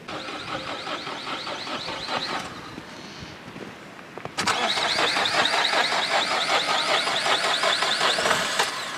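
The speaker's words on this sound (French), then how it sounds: "Il semblerait que la voiture ne démarre pas." A car engine cranks repeatedly in snowy cold weather, struggling to start: a burst of rhythmic starter whirring, a short pause, then a louder, longer round of cranking, close to the microphone with some wind.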